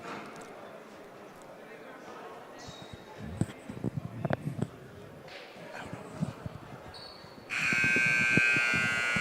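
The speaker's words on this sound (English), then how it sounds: "As the buzzer rings," Buzzer at a high school basketball game sounding loudly near the end, a sustained harsh electronic tone after gym noise with bouncing balls and a voice talking over it.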